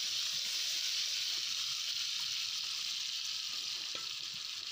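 Seasoned ash gourd fries in hot oil, giving a loud, continuous, even sizzle close up with no talking over it.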